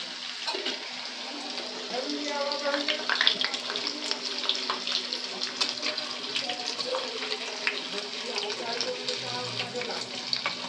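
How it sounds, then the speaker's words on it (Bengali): Potato-and-egg-filled samosas sizzle as they deep-fry in about 500 ml of oil, a steady crackling bubble with occasional louder pops and clinks of a utensil. "আমি এগুলোকে এক একটা করে এবার তেলে ছেড়ে দেব"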